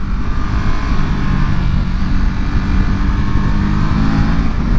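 A 2023 Ducati SuperSport 950S engine drones loud and steady while ridden through corners, a continuous low-pitched roar mixed with rushing wind and no speech.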